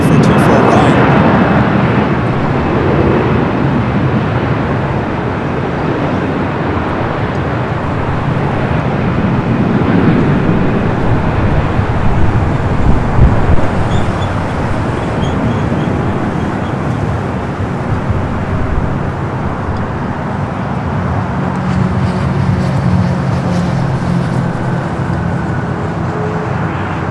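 A Lufthansa Boeing 787 Dreamliner in 100-year livery on short final for runway 24 right at LAX, a continuous airy jet roar from a distance that holds steady throughout.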